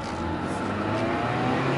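Car engine with its timing belt set in the wrong position, revving up under acceleration; a close, continuous motor roar rising steadily over a couple of seconds.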